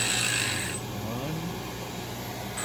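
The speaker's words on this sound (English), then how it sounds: "That's a wimpy lathe." A dental lab lathe cuts grooves into a plaster cast, giving a steady whirring, rasping grind with a high tone that drops after the first second, close and continuous.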